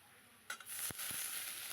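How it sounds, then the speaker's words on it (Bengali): Onions frying with salt, turmeric and ground spices give a brief, faint sizzle, broken by a couple of sharp stirring clicks. "পেঁয়াজগুলো একটু লাল লাল করে ভেজে নেব"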